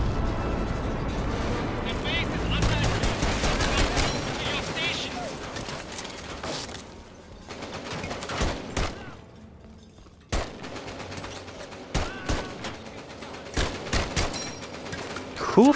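Bursts of gunfire from scientists with guns in Medal of Honor: Above and Beyond, a VR game, with sharp repeated shots and loud firefights that thin out into scattered single cracks, with game voices mixed in.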